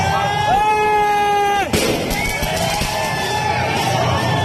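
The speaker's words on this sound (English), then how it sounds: "the fireworks are landing on people." Whistling fireworks rise and sweep inside a theater, then a sharp bang bursts near, followed by crackles and a crowd's startled commotion and chatter.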